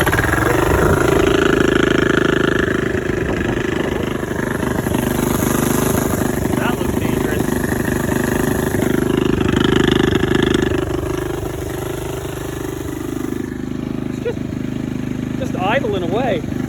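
A Honda QA50 pit bike with a sidecar idles steadily and a little high, a continuous close engine drone under someone talking throughout.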